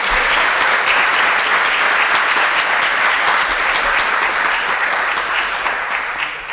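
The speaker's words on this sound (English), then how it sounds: "Let's clap. Come on, y'all, give it up for him." Strong, steady applause from a ceremony audience for an EMT promoted to paramedic, dense clapping at close range that holds evenly and tapers slightly at the end.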